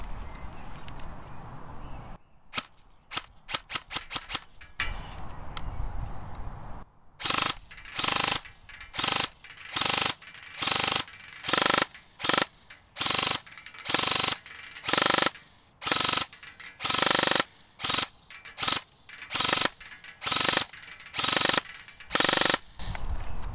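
An airsoft AKM firing from an old-school LCT metal-sided 7.62 mid-cap magazine: a brief stuttering burst early on, then long runs of loud, rapid mechanical full-auto cycling broken by short pauses, close up with no talking.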